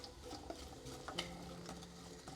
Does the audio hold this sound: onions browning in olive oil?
yes